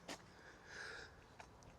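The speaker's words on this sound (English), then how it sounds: "Right then, I'm going to sneeze." A single person's sneeze outdoors along a woodland walk, a sharp nasal burst followed by a brief sniff, quiet and close.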